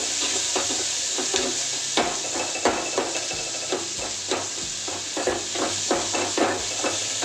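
Sliced onions fry toward golden brown in a home kitchen pan for village-style holige sambar, a constant hiss broken by repeated scraping and stirring knocks from a spatula, close and loud, with no talking.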